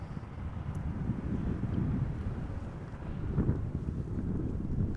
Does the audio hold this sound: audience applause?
no